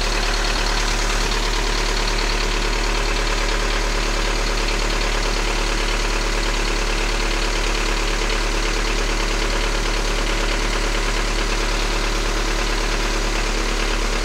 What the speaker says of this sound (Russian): Вот так вот двигатель работает без картера. То есть двигатель работает без масла.